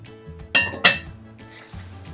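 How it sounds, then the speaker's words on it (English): A metal lid set down on a cooking pot gives two sharp clinks in quick succession, close and clear, followed by quiet handling noise. "So I'm gonna put the lid on."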